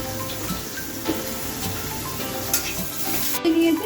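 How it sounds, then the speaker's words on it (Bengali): Continuous crackling sizzle of salted eggplant frying in hot oil, close and steady, with occasional stirring scrapes and no talking. "এবার আমি বেগুনগুলিকে দিয়ে দিচ্ছি। সামান্য নুন দিয়ে আমি এটা ভেজে নেব।"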